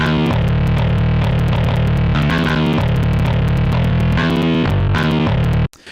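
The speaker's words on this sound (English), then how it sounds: "So first we're going to focus on the bass, which by itself sounds like this." A heavily distorted metal bass line from the FL Studio templated bass plays a loud, driving run of chugging notes with shifting pitches, then cuts off abruptly just before the end.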